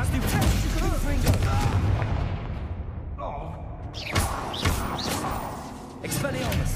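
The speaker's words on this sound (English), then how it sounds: "That's the Confringo." A Confringo fire spell exploding in the Hogwarts Legacy game, heavy booming blasts and thuds in a busy combat mix, with a voice speaking over parts of it.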